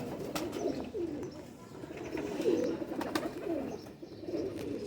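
Pigeons kept by fanciers coo repeatedly in soft, throaty phrases under hot sun, fairly close, with a few light wing flutters and clicks around the steady cooing.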